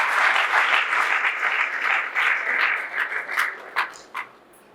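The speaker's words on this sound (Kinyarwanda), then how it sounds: "mufashe tubakomera amashyi menshi cyane." Audience applause at a celebration event: dense, steady clapping from a crowd that holds strong for about four seconds, then thins to a few scattered claps before fading out.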